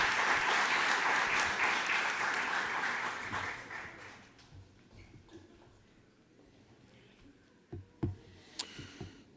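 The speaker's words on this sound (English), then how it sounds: "One big round of applause." Applause from an audience at a university new venture competition follows a presentation, loud at first, then fading out around four seconds, leaving a quiet room with a few scattered knocks and shuffles.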